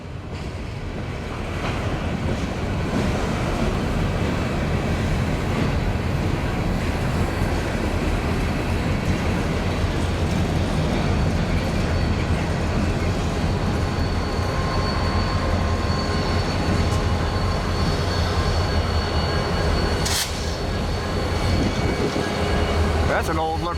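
A CN freight train with mixed locomotive power, including an old EJ&E SD38-2, rumbles past on the Osage Sub in a long, steady roar of engines and rolling wagons, loud and continuous, with a brief bright squeal near the end.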